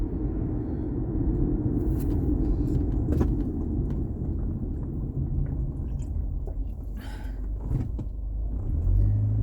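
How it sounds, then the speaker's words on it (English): A classic 1950s Chevy in excellent condition rolls past, a low engine rumble with road noise that holds steady and swells slightly near the end, with no talk. "I just saw like a 1950s Chevy."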